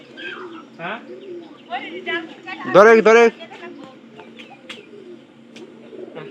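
Pigeons coo and call intermittently near a coop during vaccination and release, with a louder burst midway, while people talk over them.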